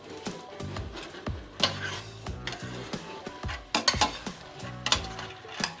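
Dried beans going into a pot of sizzling base for Turkish kuru fasulye, followed by repeated spoon scrapes and stirring knocks against the pot over a steady frying hiss.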